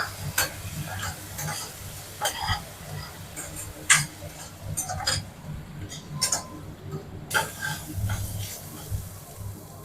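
Ginger garlic paste frying in a pan with curry leaves and coriander for mutton thokku, a soft sizzle under repeated scraping stir strokes and light clicks of a spoon against the pan, close and steady.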